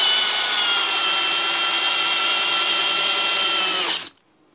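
A Parkside Performance PBSPA 12 C3 cordless drill driver runs loud and close with a steady high motor whine for about four seconds, then spins down quickly to silence.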